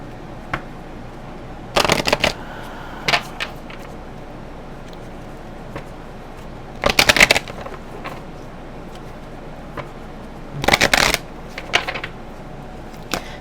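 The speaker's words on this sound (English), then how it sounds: "I'm going to get some oracle cards out and then we'll get into the tarot." Oracle and tarot cards are shuffled in several short, crisp riffling bursts at close range, separated by quiet gaps with no speech.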